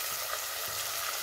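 A cup of spinach goes into a hot pan for a bean curry and fries with a loud, dense, continuous sizzle and crackle, heard close up with no talking.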